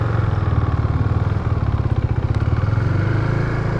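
A KTM 390 Duke single-cylinder motorcycle engine runs while riding, a loud, steady, close throbbing drone with a rapid pulsing beat and no talk over it.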